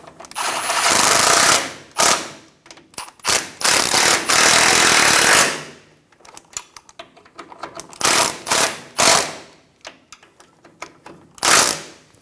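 A power tool snugs the bolts on a differential mounting bracket of a 2014-2018 Chevrolet Silverado 1500 in loud, rattling bursts of several seconds each, with short pauses between them, close up and with no voices.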